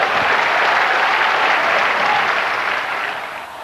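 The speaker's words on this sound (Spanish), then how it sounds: "Denle un aplauso al Señor." Loud, dense applause from a church congregation, a continuous roar of many hands clapping together that holds steady and then tapers off slightly toward the end.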